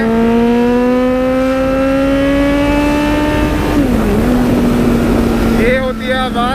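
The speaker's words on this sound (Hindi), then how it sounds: "ये होती है आवाज़ दिस इज 4 सिलेंडर बेबी" The four-cylinder exhaust of a Suzuki Swift converted to look like a Mini Cooper revs steadily and close by, its tone climbing gradually, then dipping and blipping near the end.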